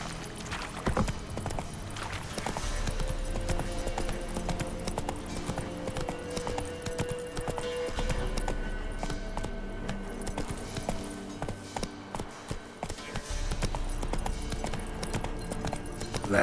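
A horse gallops in The Witcher 3: Wild Hunt, its hooves pounding in a steady, rapid rhythm that runs close and continuous for the whole stretch, with only faint traces of game voice.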